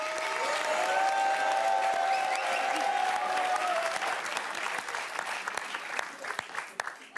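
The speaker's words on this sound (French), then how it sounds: "On peut applaudir très fort parce qu'il aura tout fait." Loud applause from a TV studio audience fills the room steadily, with a faint tonal whistle-like sound early on, then thins into scattered claps toward the end.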